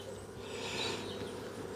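Honeybees drone steadily inside an open beehive during an inspection, a close, even buzzing hum that swells slightly midway, with no voices.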